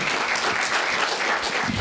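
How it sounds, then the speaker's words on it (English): Audience applause at a 4-H public speaking contest, a dense steady patter of many hands clapping filling a hall, loud and continuous with no voices on top. "Let's give them another round of applause."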